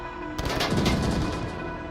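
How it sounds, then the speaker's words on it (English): Rapid gunfire in the Pavlov VR shooter video game: a loud, dense cluster of overlapping shots that peaks and then tapers off within two seconds. "Looks like Gideon takes out one."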